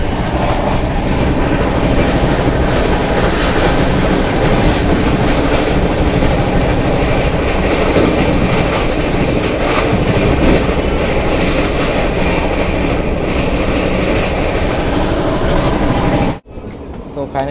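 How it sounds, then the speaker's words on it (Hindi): Sleeper class carriage of the Andhra Pradesh Sampark Kranti Express rolling along rails, a loud, constant rumble with rhythmic clickety-clack of wheels over joints, heard from inside, cutting off abruptly near the end. "हमारी ट्रेन आ चुकी है"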